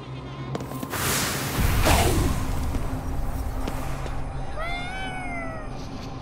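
A cat-like yokai meows in the video game Ghostwire: Tokyo, a drawn-out wavering cry rising over a dense, noisy game soundscape, near and fairly loud toward the end.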